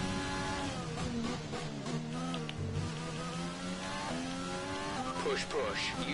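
A Formula 1 race car engine in F1 2020 at the Australian Grand Prix whines high and steady, pitch stepping up and down through gear changes, with a person talking over it throughout.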